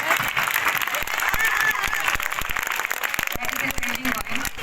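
Scattered applause from the audience at a school debate competition on women's reservation, a steady patter of claps running through the whole stretch with voices mixed in.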